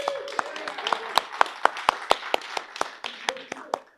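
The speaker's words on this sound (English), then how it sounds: "Can we give all the volunteers a round of applause?" A few people at a cybersecurity conference clap for the volunteers. The sharp, scattered individual claps are spaced irregularly over quiet room tone, with some voices audible underneath.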